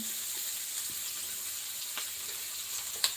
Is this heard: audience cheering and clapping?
no